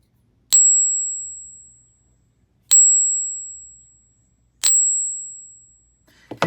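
A fake silver bullion coin is dropped three times, one after another. Each drop gives a sharp strike and then a clear, high, bell-like ring that lasts about a second and a half, followed by a soft clatter at the end.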